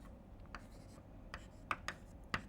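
A pen or marker writing a math formula in short, faint strokes, with a few sharper scratchy ticks near the end, quiet and close with no talking.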